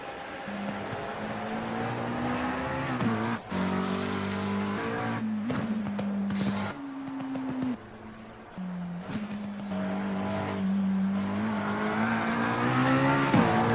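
A McLaren 720S GT3 race car laps the Suzuka circuit in a racing sim, its engine note climbing and dropping through gear changes, with brief tyre squeals in the corners.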